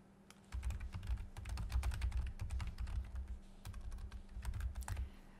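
Fingers tap out text on a computer keyboard in quick, irregular bursts of close, crisp clicks, with short pauses between runs of keystrokes and a faint hum underneath.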